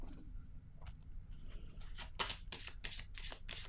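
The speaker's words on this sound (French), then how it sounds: "Je vais piger une autre carte." Tarot cards shuffled by hand, a soft rustle at first, then a run of crisp riffling bursts in quick rhythm, close and fairly quiet.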